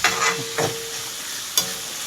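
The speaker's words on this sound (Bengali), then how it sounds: "এদিকে পেঁয়াজ ভাজা হবে আর এদিকে ডিম ফাটানো রয়েছে এটাকে ভাজলে হয়ে যাবে" Onions and eggs frying in a home kitchen pan, a soft steady sizzle with a few brief stirring scrapes and clinks, fairly close and with no talk over it.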